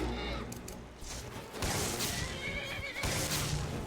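A horse whinnies in the video game Skyrim amid a busy layer of game sound effects, with some clatter and a brief burst of noise near the end.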